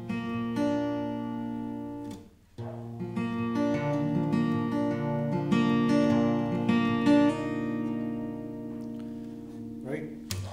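Acoustic guitar strums and picks the third bar of a song, ringing chords with a brief pause before the pattern resumes, close and steady with no voice over it.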